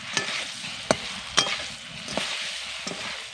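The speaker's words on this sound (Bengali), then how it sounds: "এবার ভালো করে মিশিয়ে নেব।" Green mango pieces, already fried, are stirred with turmeric and salt in a pan: a few sharp spatula scrapes and knocks stand out over a steady, close frying hiss.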